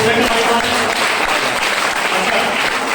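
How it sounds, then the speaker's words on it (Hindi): A crowd at a speech event breaks into loud, dense applause, steady clapping filling the whole stretch with a voice faintly under it. "ताली जोरदार वाली बजाइए सब।"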